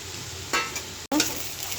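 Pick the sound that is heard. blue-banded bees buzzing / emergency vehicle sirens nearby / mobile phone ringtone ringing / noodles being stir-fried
noodles being stir-fried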